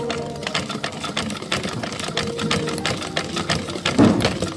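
A sewing machine runs continuously, stitching fabric as the cloth feeds forward after a feed dog problem was fixed. The whirring motor and rapid needle chatter are close and steady, with a brief louder burst near the end.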